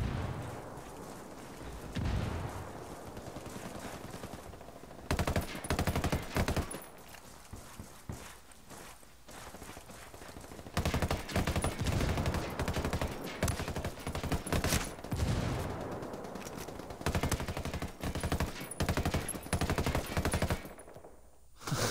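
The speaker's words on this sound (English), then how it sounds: "So much gunfire." Gunfire in a tactical shooter video game. Sustained, loud bursts of automatic fire and overlapping shots continue for about twenty seconds with brief gaps. There is no talking.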